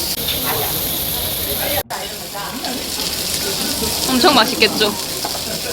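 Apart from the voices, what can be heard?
food sizzling on a hot grill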